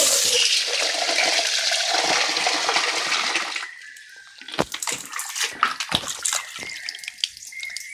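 A mixer grinder jar being washed under a running tap, with loud continuous water gushing into it that cuts off midway into scattered splashes, drips and handling knocks.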